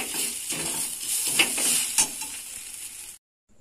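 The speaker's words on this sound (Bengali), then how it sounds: "এবার চাউটা একটু নেড়ে চেড়ে দেবো।" Chow mein with tomato sauce being stirred in a pan, a steady close sizzle with scraping strokes of a utensil for about three seconds before cutting to near silence.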